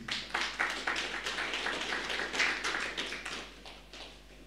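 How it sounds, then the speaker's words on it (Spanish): Applause from a church congregation greeting the Nueva Alegría choir at a prayer service: dense, steady clapping from many hands, moderately loud and close, continuing evenly without talk. "Recibimos con un fuerte aplauso al coro Nueva Alegría"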